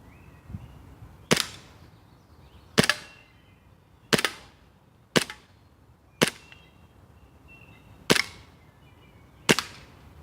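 Seven sharp, snappy shots from an airsoft M1911 pistol fitted with a shoulder stock, spaced evenly about a second or so apart, each a crisp close crack with a short tail, no talking.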